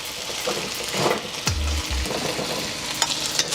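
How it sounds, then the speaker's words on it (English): Chicken pieces fry in oil in a hot wok for chow mein, a steady close sizzle with a brief low thump partway through and no talking. "Once you got all your pieces touching the wok, we're gonna let this cook for about 2 minutes."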